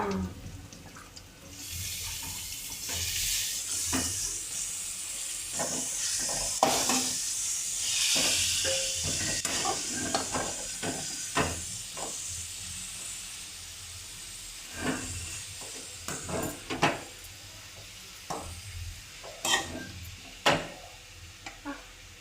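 Beetroot frying in a hot pan for a beetroot palya, a steady hiss and sizzle of moisture cooking off, broken by frequent scraping and clacking strokes as the pieces are stirred, close and fairly loud with no talking.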